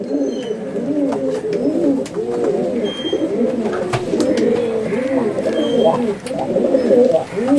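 Pigeons of a high-flyer breed in a loft coo continuously, several overlapping throaty calls close by and fairly loud, with faint background chatter.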